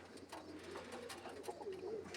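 Faint soft cooing from pigeons kept by a breeder, a few low murmuring coos in a quiet setting with no talk.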